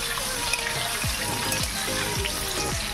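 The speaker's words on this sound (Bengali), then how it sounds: "আলুর মধ্যে সামান্য একটু নুন, সামান্য একটু হলুদ দিয়ে আমি ভালো করে ভেজে নেব।" Potato pieces seasoned with salt and turmeric frying in hot oil, a steady close sizzle and crackle with a few bubbling pops over a constant hiss.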